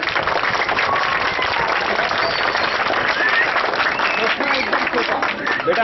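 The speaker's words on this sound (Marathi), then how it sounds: "ह्या 2 विद्यार्थ्यांसाठी एकदा जबरदस्त टाळ्या होऊन जात्या मित्रांनो" A large audience at S.L. Public School in Badnera, Amravati claps loudly and steadily for two young students. The dense applause holds for about six seconds with a lively crowd texture.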